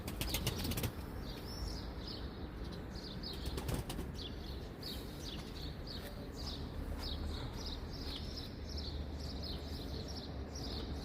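Pigeons' wings flutter in quick repeated bursts against a steady outdoor hiss as a flock flies high in the morning, fairly faint and continuous.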